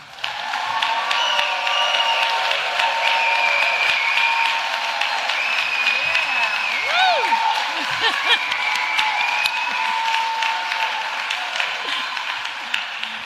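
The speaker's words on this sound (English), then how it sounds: "give me, my friends, the kind of applause that you would have for a true labor leader" A crowd at a nurses' union gathering welcomes a labor leader with sustained applause and cheering, with whoops and shouts rising over the clapping throughout.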